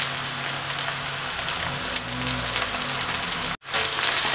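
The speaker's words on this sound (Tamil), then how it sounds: "தக்காளி நல்லா வதக்கிக்கலாம்" Chopped tomato sizzles steadily in a hot pan with green chilli while being sautéed for an egg jalar murtaba filling, a constant close frying hiss that cuts out briefly near the end before resuming.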